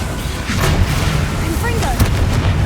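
The Confringo spell fired in Hogwarts Legacy on PS5 unleashes a steady, loud roar of fiery blasts and booming impacts amid continuous dense combat noise.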